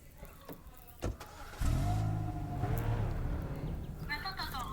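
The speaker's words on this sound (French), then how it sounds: "je suis en camion" A truck drives along in the video game Emergency Hamburg, its engine rising to a steady hum after a brief start. Someone talks over it throughout.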